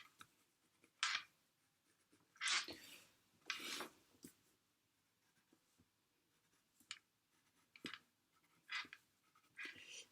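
A pencil drawing a grain line onto pattern paper while drafting a godet for a panelled skirt, heard as several short, faint scratchy strokes separated by quiet pauses, close up and with no talking.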